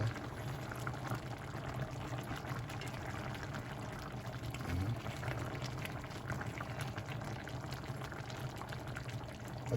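Squash and shrimp simmer in coconut milk, giving a steady, continuous bubbling boil that stays even and close throughout, with no voices.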